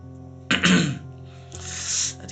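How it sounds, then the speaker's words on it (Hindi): Two rough coughing fits, close and fairly loud, a second apart, with a quiet background hum and no talking. "खांसी बहुत आ रही है"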